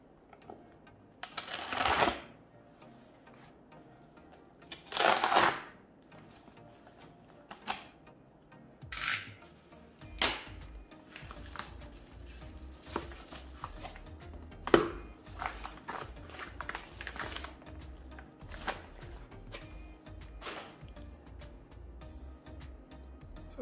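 Box for a PS5 DualSense charging station being unpacked: scattered crisp cardboard and plastic rustles, slides and taps, close and intermittent with quiet gaps, no speech.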